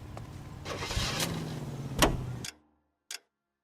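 A car in L.A. Noire drives with a low engine rumble and faint ticking, then cuts off abruptly, followed by a short click after a moment of silence.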